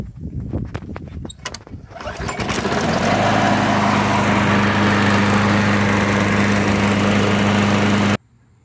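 A repaired Craftsman walk-behind lawn mower engine catches after a few starting pulls and settles into a loud, steady, close running drone that holds until it cuts off abruptly.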